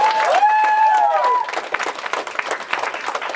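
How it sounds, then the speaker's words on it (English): Applause and crowd noise at a convention Q&A panel swell under a bright, warbling tone at the start, then settle into steady clapping that carries on to the end. "Give that man a round of applause."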